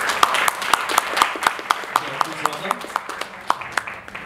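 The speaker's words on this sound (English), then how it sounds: "How can we get a round of applause" A small audience at a marketing event claps to welcome a speaker, with distinct, sparse claps in a loose rhythm and voices talking underneath.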